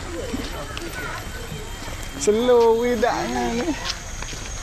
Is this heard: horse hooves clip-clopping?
yes